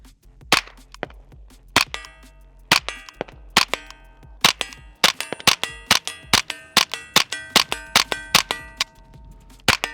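Sharp metallic clacks from a Ruger 10/22 .22 LR rifle being handled, scattered at first, then tightening into a rapid, ringing rhythm of close, loud snaps with no talking.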